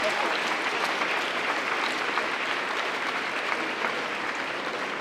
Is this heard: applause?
yes